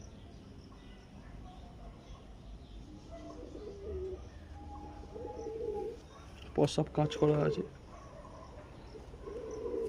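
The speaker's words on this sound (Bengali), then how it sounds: "দুর্দান্ত হেড শেপের পায়রা বন্ধুরা" Pigeons kept for sale at Baruipur coo in soft, low bursts, with a brief cluster of calls standing out partway through while people talk nearby.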